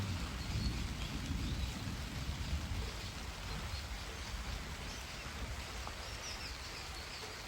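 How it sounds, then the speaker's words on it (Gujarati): Heavy rain pours down in a village in a continuous, even hiss with no voices, heard from a little distance. "heavy rain start in my village મારા ગામમાં વરસાદ ચાલુ થઈ ગયો"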